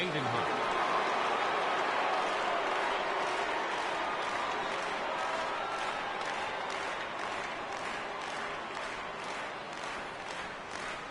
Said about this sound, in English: the crowd still buzzing over the grand slam